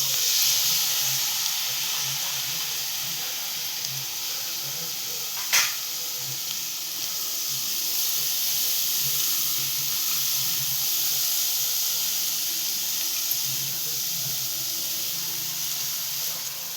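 Chana dal sizzles in hot oil in a pan, a steady, fairly soft hiss and crackle close by, broken once by a brief click.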